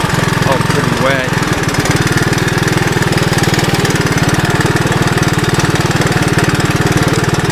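A 1981 Honda 185S motorcycle putters along in first gear on wet off-road ground, its single-cylinder engine giving a steady, close, loud low chug throughout, with no speech over it.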